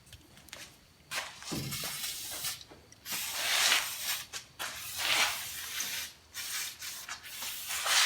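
Hissing bursts of spray lubricant aimed into the tailgate of a Ford Ranger pickup, several uneven spurts separated by brief pauses and some rubbing, close and fairly loud.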